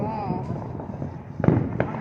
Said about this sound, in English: They got some illegal fireworks.